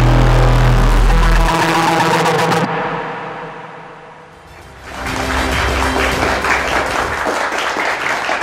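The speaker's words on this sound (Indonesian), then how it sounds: "Lebih meriah lagi tepuk tangannya teman-teman mahasiswa dari Fakultas Hukum Trisakti." Law students of Trisakti University in a televised talk show studio break into loud, dense applause that dips briefly midway, then swells back up and carries on strongly to the end.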